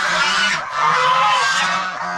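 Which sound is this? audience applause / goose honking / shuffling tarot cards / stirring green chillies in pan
goose honking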